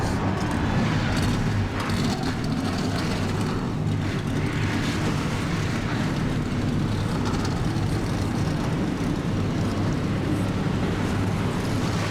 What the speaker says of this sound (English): Well, Trey, it's great to hear cars fired back up and ready to go racing here at Daytona